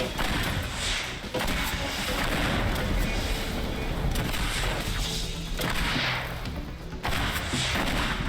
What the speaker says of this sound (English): Let's change to rocket launcher.